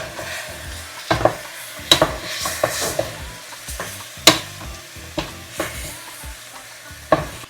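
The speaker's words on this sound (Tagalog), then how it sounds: "Isang kutsa lang po natin siyang mabuti para maano yung ating chicken, magisa siya ng maayos at saka yung magkulay brown na." Chicken stirred and sautéing in a pan for chicken curry, a soft steady sizzle broken by sharp scrapes and clinks of a utensil against the pan at irregular intervals, close and alone without talk.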